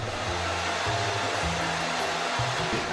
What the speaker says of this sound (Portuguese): agora é só passar o secador que vai ficar os cachinhos lindos